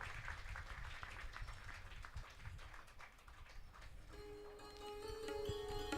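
Applause from an audience at a Guru Purnima festival book launch, a quiet, distant wash of many hands clapping, with a sustained musical tone entering near the end.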